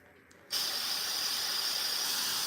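An airbrush sprays paint onto a Warhammer miniature in one steady, close hissing burst that starts sharply and holds without pause, with a brief quiet lead-in beforehand.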